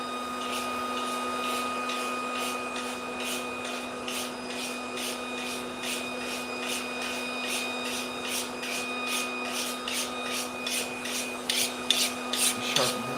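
Hair is scraped off a harvested pig in a steady run of rhythmic rasping strokes, faint against a constant mechanical hum and ending in a few louder scrapes.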